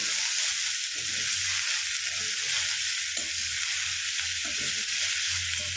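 Beet and carrot curry with Kashmiri red chili sautés on low heat, giving a continuous loud hiss of frying close up, with soft scraping and stirring strokes recurring through it and no voices.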